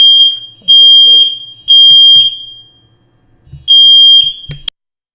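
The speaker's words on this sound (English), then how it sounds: "the fire alarm is going off in my building" A building fire alarm sounds in three loud, piercing electronic bursts, each lasting about a second with short gaps between them, and a few faint thumps and rustles fill the pauses.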